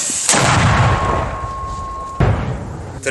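Two heavy booming blasts of a mortar firing, a few seconds apart, each with a sharp onset and a rumbling tail, outdoors and fairly close.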